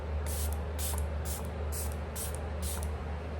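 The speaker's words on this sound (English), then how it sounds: "And then I'm just gonna spray it to my face." Several short hissing bursts of facial mist sprayed onto a face, about six, at a steady rhythm over a constant low hum, close by.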